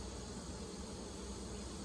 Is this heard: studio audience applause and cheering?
no